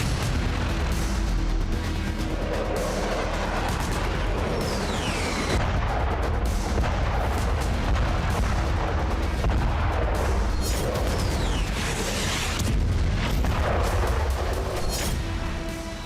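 War footage of tank cannon and artillery fire: heavy booms and blasts repeating over a dense, continuous roar of rumbling battle noise, loud and close, with no voices.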